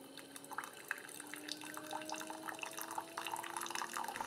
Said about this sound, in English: The water dripping, yeah, it's really louder than the motor.